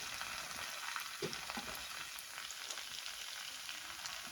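Ginger and garlic fry in a curry with chillies and onion, a quiet, even hiss of frying with a few soft knocks from stirring, close but faint.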